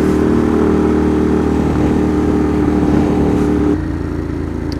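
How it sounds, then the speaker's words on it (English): Engine of a four-wheeled Triumph ridden on a morning commute, a loud steady drone that drops in pitch and level near the end as the rider eases off, heard alone without talk. "nothing like a good motorcycle ride to turn a boring morning into a great one"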